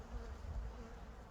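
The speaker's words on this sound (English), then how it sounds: "you can see there's obviously bees in there and they're active enough" Honey bees in an open beehive, uncovered for winter wrapping, give a brief low, steady hum, faint and close.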